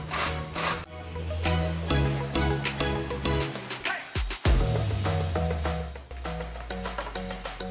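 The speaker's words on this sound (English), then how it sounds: "I am going to grate it on the larger grater" A large zucchini is rubbed against the larger holes of a box grater in a kitchen, giving continuous rasping strokes in a rough, repeated rhythm, close up and moderately loud.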